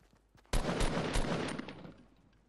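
Gunfire in Fortnite, a sudden loud burst of several rapid shots followed by a decaying echoing tail, close and alone.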